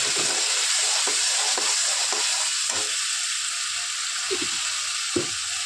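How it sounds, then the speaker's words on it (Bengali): Spicy egg curry with chili powder sizzles steadily in a pan, a broad frying hiss running throughout with soft scraping stirs every second or so, fairly close and with no voices. "ডিমের ঝোলটা আমি আস্তে আস্তে কষিয়ে নেব"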